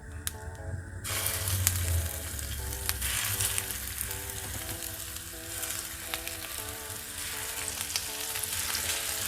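Meatballs fry in a blend of avocado and olive oil, giving a steady, dense sizzle with crackling pops that runs throughout at close range.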